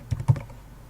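Code typed on a computer keyboard, two quick close key clicks followed by quiet.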